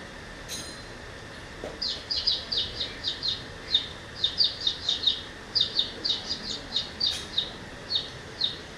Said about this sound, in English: now look at the song of the sparrow